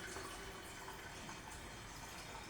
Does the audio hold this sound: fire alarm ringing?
no